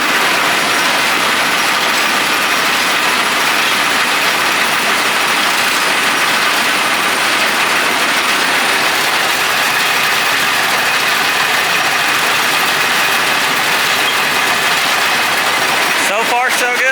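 A combine harvester engine runs in a loud, continuous, dense roar that holds steady without letup, with a brief rattling clatter near the end.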